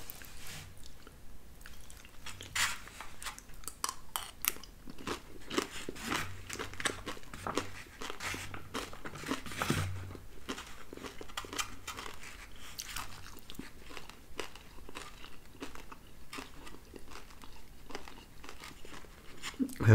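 Crunchy Post Premier Protein Mixed Berry Almond Cereal with almonds being chewed close up, a steady run of crisp bites and crunches throughout with no talking.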